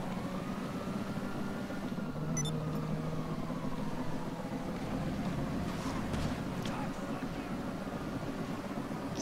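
A damaged car in GTA V Online runs with a rough, continuous engine drone, joined by siren-like wavering tones and faint voices in the background.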